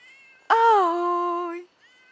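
A kitten gives a single clear, drawn-out meow up close, loud and tonal, lasting about a second with a falling pitch, in an otherwise quiet room with a faint murmur afterward.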